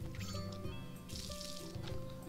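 Watering crops in the Story of Seasons: A Wonderful Life farming game, a soft liquid pouring and dripping effect over layered game music, lasting a couple of seconds.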